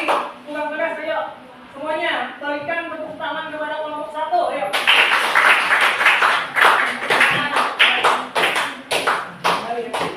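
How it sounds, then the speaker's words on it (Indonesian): A classroom of students claps for group 1, the quick, uneven hand claps bursting in loud and close after a voice talks briefly, then continuing steadily to the end. "Semuanya berikan tepuk tangan kepada kelompok 1."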